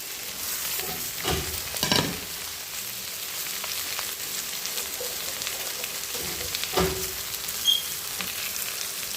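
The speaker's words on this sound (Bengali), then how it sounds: "এবার সরিষার শাকগুলো দিয়ে দিলাম তারপরে ভেতর শাকটা দিয়ে দিলাম" Mustard greens fry in a pan with a constant close sizzle, broken by a few louder scraping stirs of a spoon against the metal.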